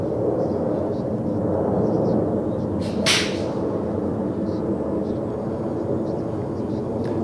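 Airplane passing overhead near Liverpool Airport's flight path beside a golf driving range, a steady broad roar sustained throughout, with a sharp whooshing burst in the middle.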